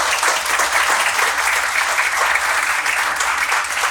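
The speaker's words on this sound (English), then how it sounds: "If we could give a big round of applause for Don." An audience applauds steadily in a venue hall for the host, dense sustained clapping from many hands, loud and even throughout without a break.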